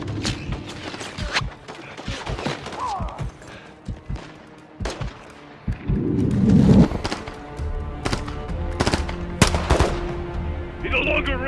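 Sniper and rifle fire in Call of Duty Modern Warfare 3, sharp cracks and bursts scattered through a battle, some close and loud and others farther off, with voices calling out between the shots.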